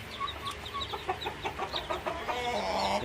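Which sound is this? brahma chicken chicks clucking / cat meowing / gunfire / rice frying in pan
brahma chicken chicks clucking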